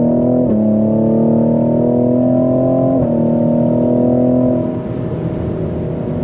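A Cadillac CT5-V pulls hard in manual mode, its exhaust a loud rising drone heard from inside the car with windows up, easing briefly at gear changes before fading slightly toward the end.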